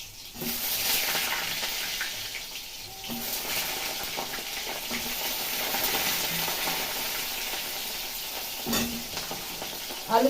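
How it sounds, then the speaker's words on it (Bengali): Potatoes and pointed gourd fry together in a pan, giving a steady, close sizzle with faint stirring scrapes throughout and a few soft utensil knocks. "আলু পটল একসাথে ভেজে নিই।"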